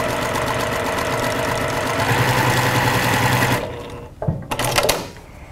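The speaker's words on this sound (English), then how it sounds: "So now we're going to just sew with a 1/4 inch." A sewing machine running a quarter-inch seam with a guided quarter-inch presser foot, a steady close mechanical whir for several seconds that stops, followed by a few handling knocks and rustles.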